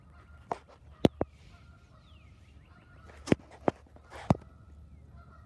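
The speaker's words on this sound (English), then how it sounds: "You can hear the geese not very happy with me at the moment." Several sharp geese honks ring out close by near a river, scattered irregularly over a quiet outdoor background, with a couple of loud bursts standing out.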